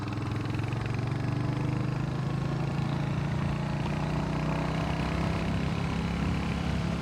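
A Royal Enfield Hunter 350 motorcycle cruises along a winding road, its steady single-cylinder engine drone close and constant with a low rumbling hum and wind noise throughout.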